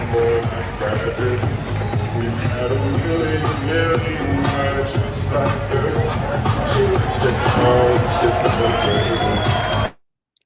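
A football stadium crowd cheers and roars as a player pumps them up, a dense sustained din of voices and whoops with people talking over it, cutting off abruptly at the end.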